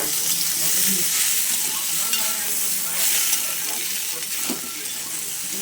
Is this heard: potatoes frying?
yes